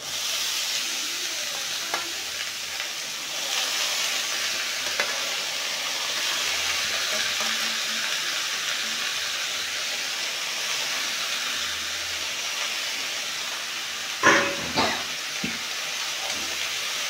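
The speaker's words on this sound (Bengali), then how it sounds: "এখন কুমড়ো পাতা শাকগুলো দিয়ে দেবো।" Pumpkin leaves go into hot oil already holding ground nigella seed paste, giving a steady soft sizzle and hiss with a few sharp stirring clanks near the end.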